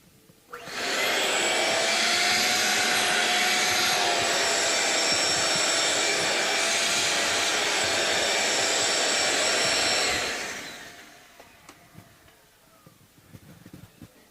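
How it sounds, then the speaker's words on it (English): A vacuum cleaner cleaning a Martin HD-28 guitar fingerboard switches on with a rising whine, runs loudly and steadily for several seconds, then winds down, leaving faint clicks and handling noise. "I do have a vacuum cleaner here to"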